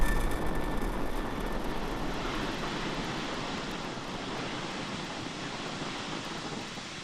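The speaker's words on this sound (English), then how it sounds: "liftoff of Falcon 9" SpaceX Falcon 9 rocket lifting off from SLC-4E at Vandenberg Space Force Base, California, carrying CAS500-2: a steady, broad crackling roar with deep rumble, sustained and gradually easing over several seconds, no voices.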